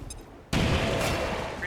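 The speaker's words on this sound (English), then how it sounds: "We'll have him throw a grenade." A grenade thrown by a soldier in XCOM 2 bursts into a loud, sudden explosion after a short quiet lead-in, the blast roaring and then decaying with a sustained rumbling wash.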